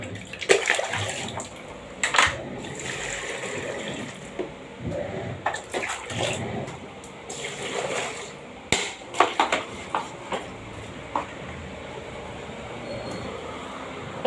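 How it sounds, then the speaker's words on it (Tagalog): Water poured into a plastic mop bucket holding soapy water, for a new spin mop bought online, heard as an uneven splashing and gurgling stream with small clatters, close by, with no talk. "dagdagan natin ng tubig"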